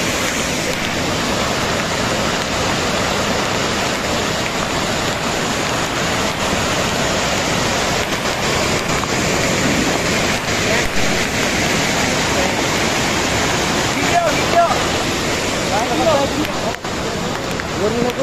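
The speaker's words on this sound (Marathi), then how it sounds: "बघा किती इतकं जोरात पाणी येत आहे ना" A powerful waterfall at Lonavala rushes forcefully in a loud, continuous wash of water, with voices faintly present beneath the roar.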